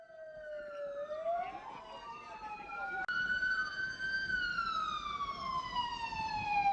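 A wailing emergency siren rises and falls in pitch during an earthquake and fire drill in Balikpapan, fairly close and loud, over a busy background with a sharp click midway.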